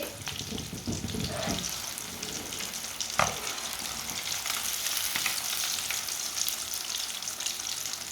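Fish fries in hot oil on a stove for a Punjabi-style winter recipe, giving a steady close crackling sizzle with a few light stirring knocks.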